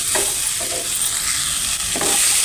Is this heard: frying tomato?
yes